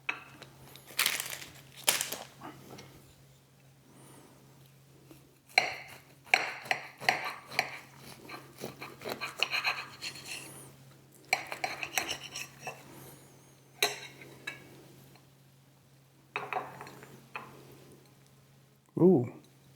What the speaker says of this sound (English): I'm gonna cut it in half.